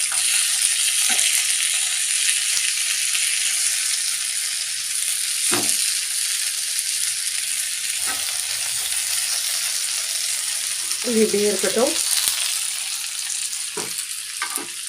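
Steady broadband sizzle of chicken leg pieces frying in hot oil, continuous throughout, with a few clinks and a brief stirring scrape near the end; a voice speaks briefly.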